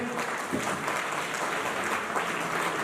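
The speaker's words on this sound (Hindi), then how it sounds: "तालियां बजती रहनी चाहिए" An audience at a quiz session on Indian history keeps up applause after a correct answer, a steady, fairly faint patter of many hands clapping without pause, heard from a little distance.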